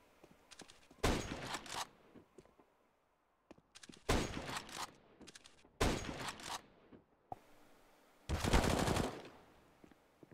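Automatic rifle sprays crack out in Counter-Strike on the Nuke map. Four separate loud bursts of rapid fire, each about a second long, are split by quiet gaps.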